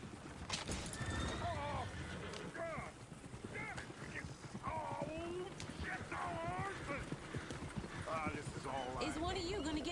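A horse in the video game Red Dead Redemption 2 whinnies repeatedly in sharp, quavering neighs over steady clip-clopping hooves, fairly close, with game ambience beneath.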